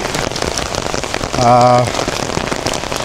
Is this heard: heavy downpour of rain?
yes